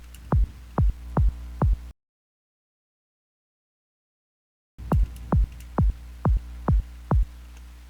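A punchy synthesized kick drum built in Phase Plant thumps in steady, evenly spaced hits over a low hum, a run of four beats, a pause of silence, then six more.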